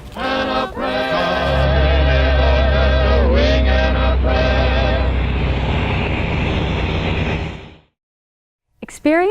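Boeing B-17 bomber with its piston engines droning loud and close, a dense multi-engine hum with pitch shifts, then it cuts off to silence before a brief burst returns at the end.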